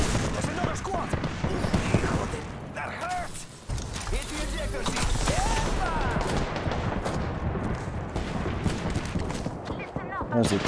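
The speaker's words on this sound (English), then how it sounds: "They're shooting at me?" Scattered gunfire in a video game, shots and bursts mixed into busy game noise, with speech running alongside throughout.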